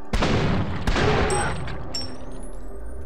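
A grenade blast amid gunfire in the first-person shooter FEAR, a loud booming burst followed by rapid, dense shots and rumbling debris that stay loud throughout.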